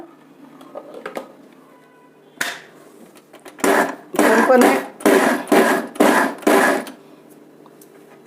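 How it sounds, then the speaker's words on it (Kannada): A kitchen mixer grinder roars in five or six short, loud pulses switched on and off in quick succession, coarsely grinding mixed greens for saaru; a brief voice is heard just before the bursts. "ಮಿಕ್ಸಿನಲ್ಲಿ ಎರಡು ಮೂರು ಸಲ ಆನ್ ಮಾಡಿ ಆಫ್ ಮಾಡಿದ್ರೆ ಸಾಕು"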